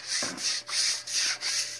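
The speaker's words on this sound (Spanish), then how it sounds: "Vamos a lijar para verle una pintada" An old fan being sanded by hand before repainting, heard as rhythmic back-and-forth rasping strokes, about five close, evenly spaced rubs with no talking.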